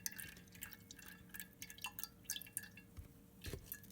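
Whey drips steadily from skyr cheese as it drains, a soft, irregular patter of small droplets falling into liquid, close and quiet with no voices.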